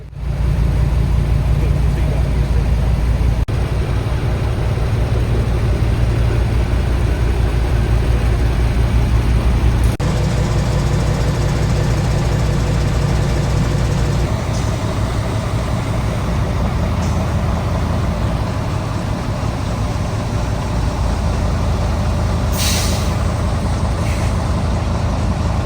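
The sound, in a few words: lorry engine idling and air brake while backing up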